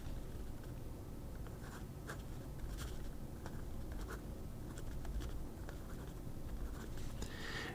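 An Asvine V800 fountain pen in green resin with a 1.1 stub nib scratching across paper, a steady soft scritching with brief strokes and pauses, close up and alone.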